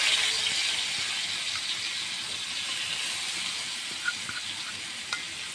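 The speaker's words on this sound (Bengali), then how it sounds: "তেলটার ভিতরে আমি পেঁয়াজ কুড়ানো দিয়ে দিচ্ছি।" Chopped onions sizzle steadily in oil left over from frying paneer, a continuous bright hiss with a few faint pops and crackles, close and alone without any talk.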